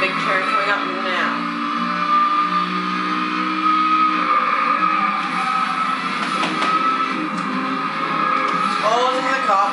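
A car drifts in Need for Speed Hot Pursuit, engine whining steadily with squealing, skidding tires through the turn, while a player talks over the game sound.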